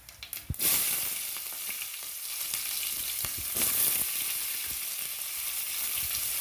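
A few quick clatters as chopped onions hit hot oil while cooking sambar, followed by a loud, steady sizzle with occasional stirring noises.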